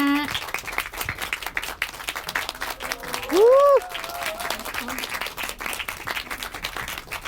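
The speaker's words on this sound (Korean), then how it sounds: "좀 더 기운을 넣어서 다시 한번 박수 한번 부탁드립니다." A theater audience at a Korean film screening with a guest talk claps in continuous applause, with a brief rising whistle-like tone cutting through midway.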